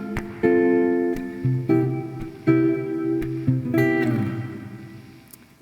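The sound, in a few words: guitar playing chord progression with bass movement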